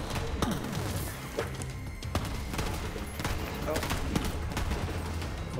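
Rapid gunfire from the video game Borderlands 3, a dense, busy burst of repeated shots and impacts over a constant game soundtrack, with a voice talking intermittently beneath.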